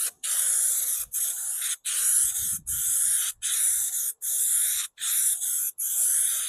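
Eight or nine short, sharp aerosol spray-glue bursts hiss in a steady rhythm onto a camper van panel, each about half a second apart with brief silent gaps, close and loud.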